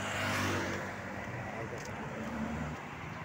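Road traffic on Kamuning highway in Quezon City, a steady broadband rush of passing cars and engines heard from close by, loud at the start and then holding level throughout.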